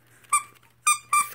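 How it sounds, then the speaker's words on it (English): Knitted squeaky gingerbread man pet toy squeezed three times, giving sharp, close, high-pitched squeaks in a quiet room with a faint hum underneath. "squeaky gingerbread man."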